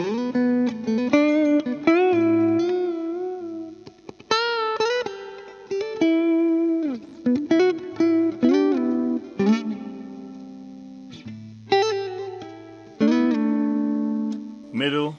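A warm, round electric guitar tone from the neck pickup of a Harley Benton CST 24 plays bluesy licks with bends and slides, clean and close, in short phrases separated by brief pauses.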